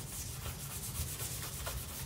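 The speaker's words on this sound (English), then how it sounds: "You just want to sit there and sand it a couple different directions until you feel it nice and smooth" Paint on a classic Volkswagen Beetle being wet sanded by hand, a soft continuous rubbing swish with gentle back-and-forth strokes, faint and close.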